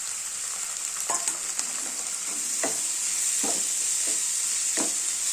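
Turmeric spice mixture and boiled lentils frying in a pan for an Uttara Karnataka style sabbaski (dill) leaf palya, a steady sizzle with several soft stirring scrapes of a spoon against the pan.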